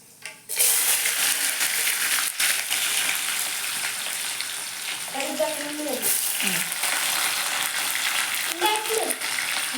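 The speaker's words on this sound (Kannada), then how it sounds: "ಜೀರಿಗೆ ಸಾಸಿವೆ ಅಕ್ಕಿನಾಗ ಎಣ್ಣೆ ಕಾದೈತಿ, ಸ್ವಲ್ಪ ಮಾರಿಗೆ ಸಿಡ್ದೈತಿ" Cumin and mustard seeds sizzle and spit in hot oil as onion is added, a steady, loud hiss that continues throughout, with a voice speaking briefly over it.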